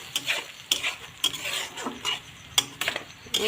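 A spoon stirs pointed gourd curry with mustard and green chilies in a pan, making repeated close scraping and clinking strokes over a faint sizzle, with no voices.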